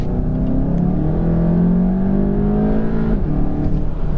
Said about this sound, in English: But do a little second gear pull here. There's nobody behind me. Turn traction control off. Nail it.